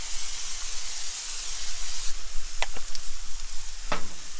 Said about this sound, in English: Spray down a little bit of olive oil.